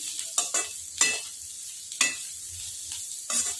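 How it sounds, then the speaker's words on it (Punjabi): Taro root stirred and fried in a spiced tempering in a pan, with a steady sizzle under several sharp scraping strokes of a spoon spaced about a second apart, close and moderately loud, no voices. "ਹੁਣ ਆਪਾਂ ਅਰਬੀ ਨੂੰ ਤੜਕੇ 'ਚ ਚੰਗੀ ਤਰ੍ਹਾਂ ਮਿਕਸ ਕਰ ਲਵਾਂਗੇ"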